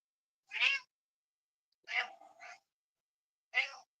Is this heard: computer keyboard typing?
no